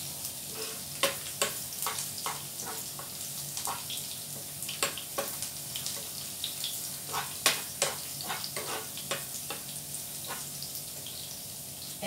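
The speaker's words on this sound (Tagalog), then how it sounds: "Ipa-brown lang natin ang bawang" Garlic browning in a hot pan, giving a steady bed of sizzling with scattered crackles and pops, close and continuous throughout, no talking.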